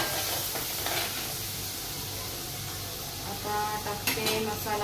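Turmeric and Agari masala tipped into a hot frying pan of fish, giving a steady close sizzle with light stirring and utensil clinks throughout, a few sharper scrapes near the end.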